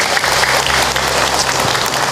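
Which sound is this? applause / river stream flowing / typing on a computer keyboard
applause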